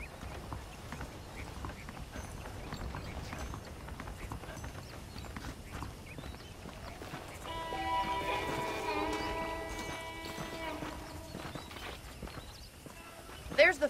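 Horse hooves clip-clop at a steady walking pace in Red Dead Redemption on Xbox Series X, running continuously under game dialogue, with a brief neigh and other ambient game sounds around them.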